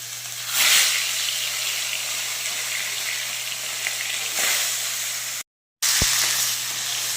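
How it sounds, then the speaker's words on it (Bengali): Bata fish fry in hot oil, giving a loud, steady close sizzle that swells briefly near the start, cuts out for a moment and then resumes with a single sharp tap. "এখানে তেলটা গরম হয়ে গিয়েছে। বাটা মাছগুলো আমি এতে দিয়ে ভেজে নিই।"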